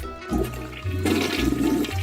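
A toilet flushes nearby, a loud gushing rush of water with gurgling swirls and hum-like tones that surge and hold for about two seconds, no talking.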